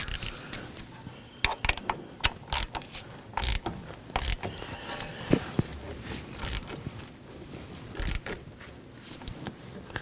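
A hand ratchet snugs down an 11 mm bolt on a brake caliper of a 2013–2019 Nissan Sentra. Close, quiet clicks come in irregular bursts of a few strokes with short pauses between them, and there is no talk.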